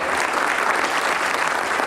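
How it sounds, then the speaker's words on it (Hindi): At a Brahma Kumaris inauguration event in Ambala City, a large audience claps loudly and continuously, a thick, uniform wash of applause filling the whole short stretch without talk. "ऐसी उपलब्धि के लिए जोरदार ताली है"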